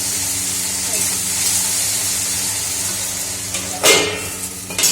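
Okra fries in oil in a pan on a gas stove with a constant close hiss and sizzle. A sharper flare of crackling rises near the end.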